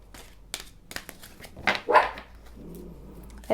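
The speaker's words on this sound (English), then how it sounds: "That's a little puppy in the background barking." A small puppy barks a few times in the background, sharp yips mid-distance in an otherwise quiet indoor room, with faint rustling before and a low hum after.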